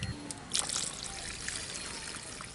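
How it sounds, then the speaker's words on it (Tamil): Water pours into a pot of crab curry being cooked in a village kitchen, a soft trickle with a brief louder splash near the start, then a faint steady stream. "இப்போ குழம்புக்கு தேவையான அளவு கொஞ்சம் தண்ணி ஊற்றிக்கலாம்."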